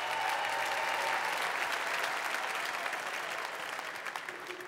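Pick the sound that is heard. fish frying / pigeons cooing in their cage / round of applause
round of applause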